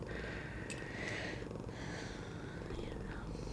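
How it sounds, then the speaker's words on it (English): A cat purrs steadily and close by in a warm room, a soft continuous rumble with a faint higher hiss over it and no talking. "You are really purring it up"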